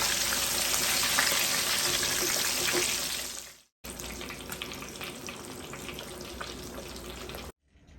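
Fish fries in hot oil in a pan with a loud, dense, continuous sizzle up close, cutting out briefly midway and again at the end.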